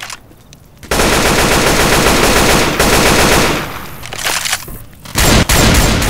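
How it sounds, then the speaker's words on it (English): Sustained loud automatic gunfire in Left 4 Dead 2 as survivors shoot zombies, rapid continuous bursts with brief gaps and a few heavier shots, close and dense. "Shoot the armored zombies in the damn back."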